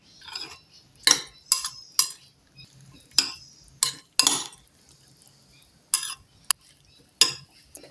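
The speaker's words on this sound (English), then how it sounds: "Then I'm gonna stir with spoon now very well." Spoon stirring in a cooking pot while making chapati dough, with sharp metallic scrapes and clinks in irregular strokes, close and clear over near silence.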